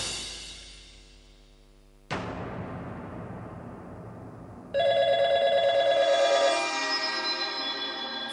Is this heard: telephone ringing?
yes